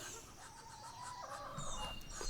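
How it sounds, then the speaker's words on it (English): Chickens cluck and call on a farm where ducks are also kept, a few faint birds near and far making overlapping clucks and squawks across a couple of seconds, no speech. "looks like the ducks and chickens are asking me for a little bit of food"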